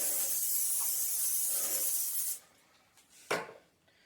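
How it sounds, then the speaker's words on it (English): A long, steady hiss of extra virgin olive oil sprayed onto a pan lasts about two seconds, followed by quieter faint rustles and a short sharp burst near the end. "I'm going to spray this pan with extra virgin olive oil"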